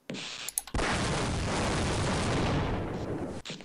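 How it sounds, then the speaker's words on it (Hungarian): A sustained, loud explosion roar in the video game Half-Life: Uplink, a sudden blast that rumbles on for about three seconds before cutting off, heard alone with no voices. "Ah, valami felrobbant."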